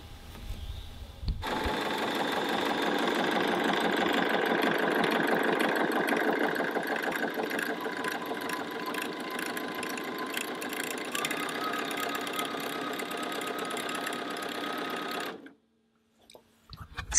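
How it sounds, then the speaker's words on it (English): A sewing machine running its automatic stitch-erase function to unpick stitches, a loud, fast, steady mechanical whirring and rattling that holds for about fourteen seconds before stopping abruptly. "you simply hit the button on the app and your machine will unstitch or stitch erase"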